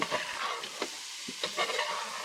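Sausage fries in a pan at a family Fourth of July camp, a moderate crackling sizzle with occasional stirring scrapes and bumps, no voices over it.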